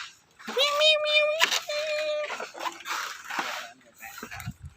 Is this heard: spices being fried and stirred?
no